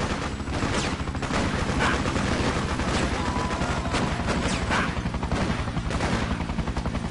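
Gunfire rattles steadily in the video game Freedom Fighters, dense rapid shots and bursts of battle noise continuing without pause throughout.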